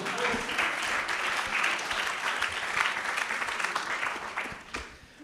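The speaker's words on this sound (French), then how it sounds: "Ah, des applaudissements, mais allez-y, applaudissez si vous voulez applaudir" A lecture audience at a talk on a town redevelopment project breaks into sustained, dense applause that holds steady before tapering off at the end.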